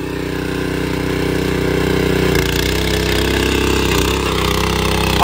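A rotary sugarcane power weeder runs in second gear with a loud, steady, buzzing engine drone held at constant pitch throughout, close and continuous with no pauses.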